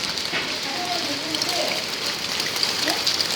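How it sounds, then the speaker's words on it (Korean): Hail falling outside, heard as a dense, steady patter and hiss of small impacts close by, with faint voices murmuring underneath. "우와, 우박 소리"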